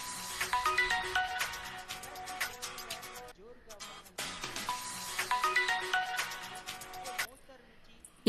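A mobile phone rings with a bright electronic melody that plays twice with a short pause between, loud and close, then cuts off abruptly.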